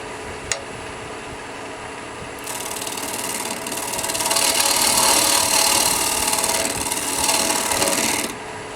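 A wooden strata bowl being reworked on a lathe, the cutting tool peeling off shavings. A brief click, then a loud, steady rasping whir of the cut runs for about six seconds before stopping abruptly.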